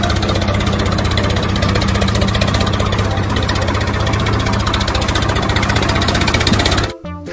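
A toy tractor's motor drones continuously, a loud close engine-like hum with steady vibration that cuts off abruptly near the end.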